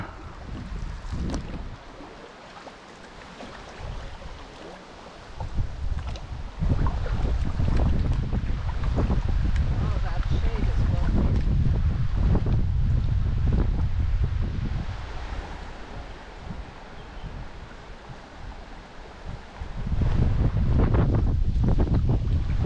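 Wind buffets the microphone on a river during a canoe trip, a rough, gusting roar that swells and eases over water, with paddling and boat sounds faintly beneath.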